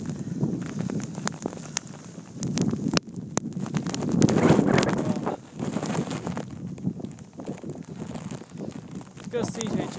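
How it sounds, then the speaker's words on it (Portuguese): Strong wind gusts roar outdoors during a Boston snowstorm, a steady rushing buffet against the microphone that swells loudest near the middle, with someone talking over it. "Eu vou desligar porque tá ventando bastante."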